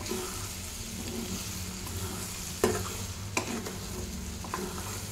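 Ridge gourd egg curry being stirred in a pan, a steady close sizzle with scraping stirs and a few sharp spatula knocks against the pan.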